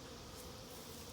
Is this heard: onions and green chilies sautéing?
no